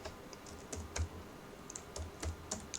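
Keys are typed on a computer keyboard, giving a faint, sparse sequence of soft clicks and taps at uneven intervals.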